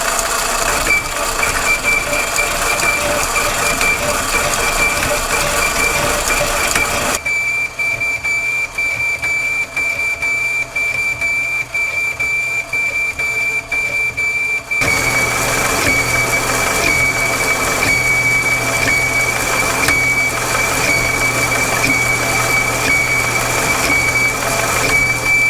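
An old South Bend lathe cutting a pulling adaptor for a Caterpillar RD-6 final drive hub: a loud, steady machine whine with a sustained high cutting tone, softening briefly midway before the full grind returns.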